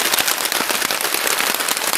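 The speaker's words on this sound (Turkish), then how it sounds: "çok şiddetli yağmur var" Heavy downpour drumming on a tarp over a tent camp beside a lakeside pond, a dense loud crackling patter with sharp drop impacts throughout, no voices.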